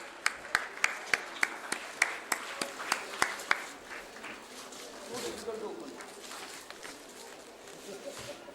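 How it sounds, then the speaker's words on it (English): A short burst of audience applause at the Kalinga Literary Festival 2026, about a dozen sharp, evenly spaced claps first, then a softer scattered patter fading out, fairly distant and modest in volume. "A big round of applause, ladies and gentlemen."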